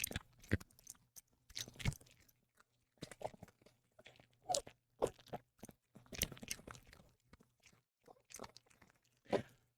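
A pet crunches and chews a treat close by, sharp irregular crunches coming in bursts with short pauses between bites, loud against a quiet room.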